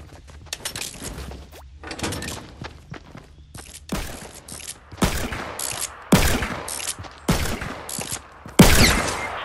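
Fortnite gunfire with loud sniper shots cracking out at intervals, growing louder and closer over the second half, with smaller scattered shots and clatter in between and almost no talk.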